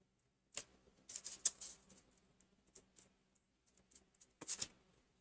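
Clicks and taps from typing on a keyboard during a painting session, coming in short irregular bursts of quiet keystrokes separated by pauses, close by with no talk.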